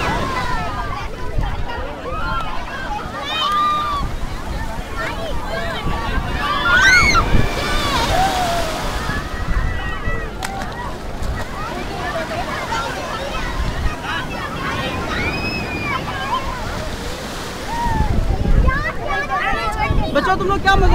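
Water waves wash steadily at a picnic spot by the water, a constant broad rush with gusts of wind, while several people talk and chatter nearby throughout.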